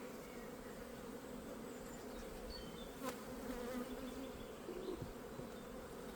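Honeybees buzz steadily around an open hive during an inspection of the brood box, a dense, continuous insect hum close by, with a few individual bees flying past. No one speaks.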